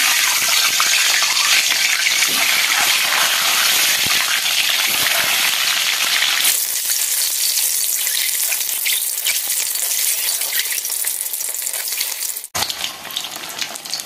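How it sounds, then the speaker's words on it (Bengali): Eggs fry in hot oil in a wok with an intense, loud, continuous crackling sizzle that eases slightly midway, then a brief break before it resumes. "তেল গরম হয়ে গেছে, তো এখানে আমি ডিমগুলো একটু ভেজে নিই, হালকা ভাজিয়ে নিই।"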